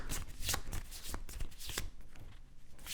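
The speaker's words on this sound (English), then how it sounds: "So we're going to shuffle these up." A deck of cards for a Star Trek board game is shuffled by hand, close up, in repeated riffling bursts with brief pauses between passes.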